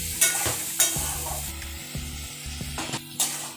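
Fried jackfruit and potato are stir-fried in masala with a little hot water for a Bengali jackfruit curry, with rhythmic spatula scrapes and knocks against the pan over a constant close sizzle.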